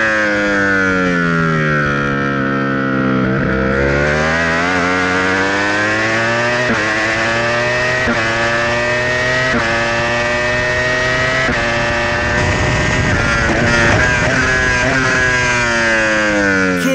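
SBK superbike racing on a road track while tucked into another bike's slipstream, its engine screaming loud and close with continuous high revs, pitch dipping and climbing through gear changes for the whole run.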